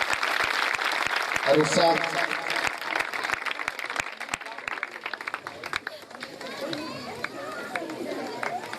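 Applause from an audience during a prize-giving, with regular claps ringing out over lively chatter and children's voices. The clapping thins out midway as the talking carries on.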